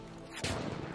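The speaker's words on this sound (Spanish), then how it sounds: "¡Hay una ametralladora!" Machine gun fire in the video game Battlefield 1, a sudden loud burst of rapid shots starting midway and continuing to the end, no talk.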